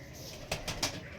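Pigeons of the Kalka and Andra Lambadi breeds at a pigeon sale coo in a few short, soft calls over a quiet background, with no talk.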